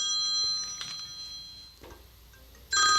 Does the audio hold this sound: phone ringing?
yes